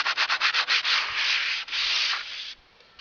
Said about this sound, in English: Like I said, you just kind of sand gently.